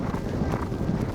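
The champion racehorse Winx gallops on the track, a dense rolling thud of hoofbeats with breathing and wind noise, close and steady throughout.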